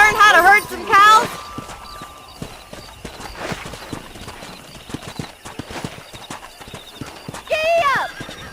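A horse gallops in the Red Dead Redemption western video game while cattle are being herded. Rhythmic clip-clop hoofbeats run throughout, with loud whinnying neighs at the start and again near the end.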